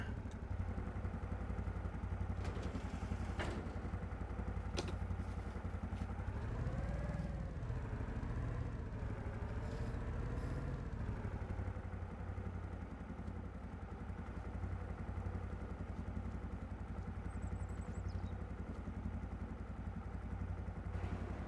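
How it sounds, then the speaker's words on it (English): A small four-stroke engine in the Farming Simulator 25 game runs steadily at a mid-pitched idle with a brief rev swell, clattering along alone for the whole stretch. "they've got the sound of that small 4-stroke engine"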